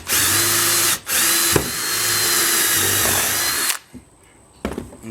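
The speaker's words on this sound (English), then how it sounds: "I'm gonna drill a hole right through the center of this thing." A power drill bores a hole through the centre of a part for a homemade indoor or outdoor TV antenna. The loud, steady whine runs for nearly four seconds with one brief dip, then cuts off, leaving near silence.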